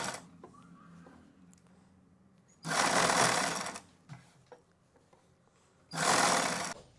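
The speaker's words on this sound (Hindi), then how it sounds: "सिलते सिलते ही हमने कपड़े को घुमाना होता है" A sewing machine stitching a suit neckline while the cloth is turned, heard as two loud, close bursts of rapid mechanical stitching about a second each, separated by quiet handling.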